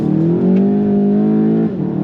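A 2017 Volkswagen GTI with the Performance Pack and DSG gearbox, about 100,000 miles on it, accelerating hard: a loud, close engine drone climbs steadily, then eases briefly near the end, with no one talking.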